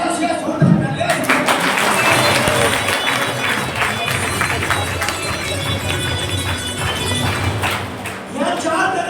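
Loud, dense clapping from an audience at a marketing company meeting in Kukshi, Madhya Pradesh, breaking out after a second and sustained for several seconds with voices mixed in.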